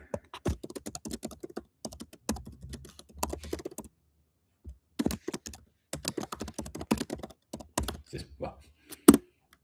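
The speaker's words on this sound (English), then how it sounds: "I'll type it in the chat so everybody knows as well." Fast typing on a computer keyboard, dense bursts of close clicky keystrokes in irregular runs separated by short pauses, ending with a louder single key strike.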